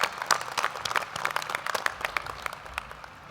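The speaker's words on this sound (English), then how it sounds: "Turn around and give them a round of applause." Faint, distant applause from a large audience at a fall 2013 McCombs BBA graduation commencement, a dense continuous patter of many hands lasting a few seconds.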